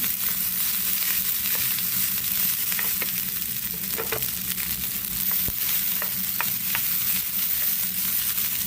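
Steady sizzling of rice frying in a hot pan for garlic fried rice, with occasional scraping and stirring clicks throughout.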